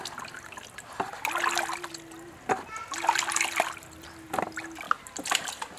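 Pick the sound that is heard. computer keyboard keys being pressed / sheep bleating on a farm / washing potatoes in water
washing potatoes in water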